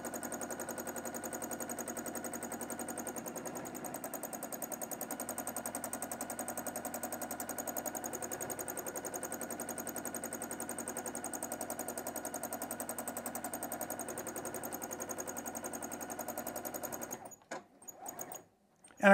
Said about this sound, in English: I like to free motion my straight stitches like this